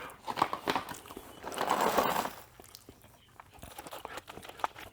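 Close, crisp crunching of salted freeze-dried carrots about two and a half years old, chewed in a few uneven bursts with a louder, longer crunch in the middle, then softer bites.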